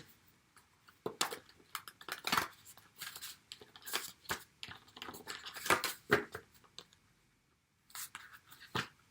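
A deck of handmade oracle cards resembling stiff recipe cards is shuffled in close, uneven bursts of papery flicks and riffles, with brief pauses and a longer gap near the end.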